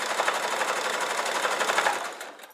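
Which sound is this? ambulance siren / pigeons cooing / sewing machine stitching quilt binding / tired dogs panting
sewing machine stitching quilt binding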